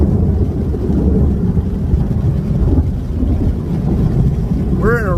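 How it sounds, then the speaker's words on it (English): A heavy thunderstorm over a campsite near Sauble Beach, with loud, continuous low rumbling and wind-like roar filling the whole stretch, and a brief voice at the very end. "we're in a really bad thunderstorm here at camp."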